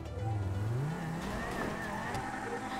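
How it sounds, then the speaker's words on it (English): A car in Grand Theft Auto V revs and drifts, its engine note swooping up and falling back with a faint tire squeal, loud and close throughout. "This car barely drifts anymore."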